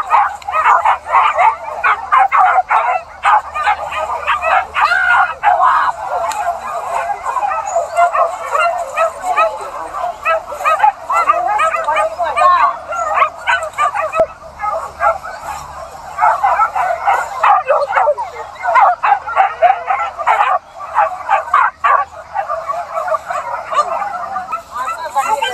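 Hunting dogs yelp and bark continuously while chasing a deer through forest, a dense, overlapping chorus of excited yips and whimpers at moderate distance, with a voice speaking intermittently over the pack.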